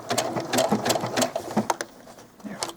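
A sewing machine stitches doll clothes fabric in quick, rhythmic bursts of needle clatter, close and fairly loud, pausing briefly before a last short run.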